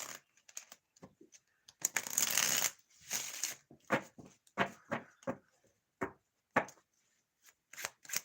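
Tarot cards riffled and shuffled in repeated crisp bursts, one long burst followed by a series of shorter snaps and slides, close and fairly quiet with no talking.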